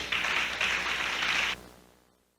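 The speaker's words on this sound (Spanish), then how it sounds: "Dale un aplauso a Jesucristo" A church congregation applauds at a Spanish-language sermon, a steady wash of clapping for about a second and a half that stops abruptly, leaving a short reverberant decay.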